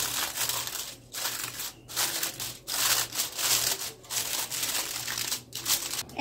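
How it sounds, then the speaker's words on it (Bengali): Foil paper crinkles and rustles close up as it is pressed over a container of homemade coconut ice cream, sounding as uneven bursts of crisp crackling with brief gaps, and no one talks. "এরকম একটা ফয়েল পেপার দিয়ে এটা ঢেকে দিতে হবে।"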